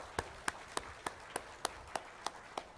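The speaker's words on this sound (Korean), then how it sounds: "오늘 가운데 딱 박수 한번 쳐드려." Church congregation clapping together in a steady, even rhythm, about nine sharp claps in quick succession, moderately distant in a quiet room.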